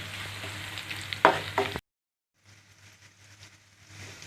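Curry leaves and spices sizzle in a pan for fish pickle, with soft, continuous frying noise and a few sharp scraping knocks from stirring, then a brief cut to silence before quieter sizzling resumes.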